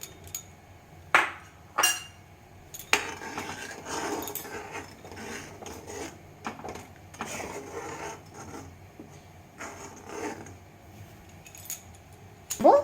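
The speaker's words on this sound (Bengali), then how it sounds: "এবারে আমি গুলে রাখা কাস্টার্ড পাউডারটা দিয়ে দেবো দিয়ে ভালো করে আমাকে কিন্তু এটা নাড়তে হবে" A spoon stirs dissolved custard powder into cooked sago in a pot. Irregular scrapes and rubbing strokes against the metal are punctuated by a few sharper clinks, fairly close and quiet, with no voices.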